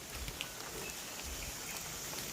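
Steady monsoon rain at a jungle camp in Periyar Tiger Reserve, a continuous even hiss of falling water with scattered drop patter, close and unbroken throughout.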